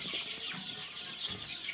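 Tiger chickens on a farm clucking faintly in the background, several birds murmuring and chirping over a low steady hum.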